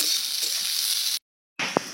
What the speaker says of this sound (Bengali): আমি বিনস ঘরে ছিল তাই একটু ভাজা ভাজা করে নিচ্ছি